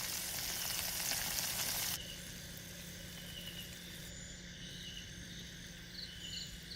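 A whole chicken fries in oil with shallots, ginger and garlic in a village outdoor kitchen, giving a steady dense sizzle with a constant crackling hiss that drops slightly in level after two seconds.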